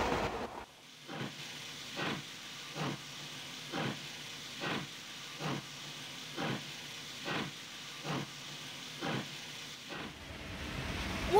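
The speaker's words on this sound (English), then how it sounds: "I dispatch the trains that carry them, sometimes to the right," A steam locomotive chuffs past in a steady run of about a dozen evenly spaced hissing exhaust beats, moderately loud against a low rumble, fading out after ten seconds.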